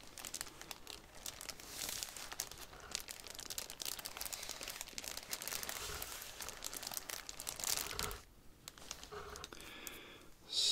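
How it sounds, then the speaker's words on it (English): Soft packaging crinkles and rustles almost continuously during a gimbal unboxing, heard close up and fairly quiet, with a short lull near the end and no speech. "There's a certain muted quality to the high end of this crinkling."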